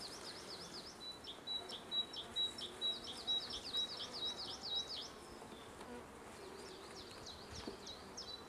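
Honeybees buzzing steadily around an open hive during a spring inspection, a dense close drone with swelling, pulsing tones from individual bees passing near, continuing without any talk.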